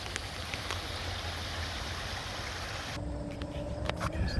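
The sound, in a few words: stream flowing over small drops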